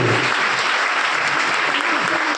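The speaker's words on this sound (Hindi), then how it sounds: "एक बार जोरदार ताली यीशु मसीह के लिए हो जाए" Loud, steady applause from a crowd at a Christian worship gathering, dense clapping filling the short stretch without pause, with a faint voice mixed in underneath.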